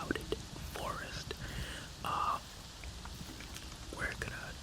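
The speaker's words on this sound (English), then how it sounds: "It's currently raining." Rain in the video game Avatar: Frontiers of Pandora, falling in a clouded forest, a soft steady patter under a whispering voice.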